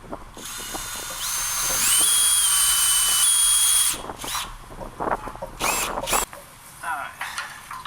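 Power drill with a 9/16 inch bit boring out powder-coated front frame hangers on a K5 truck frame, a loud steady whine for several seconds, then short on-off bursts of drilling and metallic scraping.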